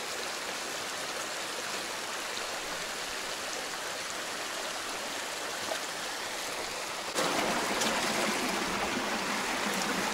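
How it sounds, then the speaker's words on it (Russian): Waterfall about fifteen metres high in the Dvubratsky canyon near Tuapse, a continuous broad rushing roar that grows suddenly louder and brighter near the end, with no voices. "Опять водопад такой, наверное, метров 15."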